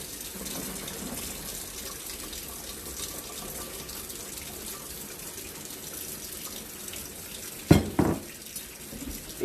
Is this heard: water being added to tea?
yes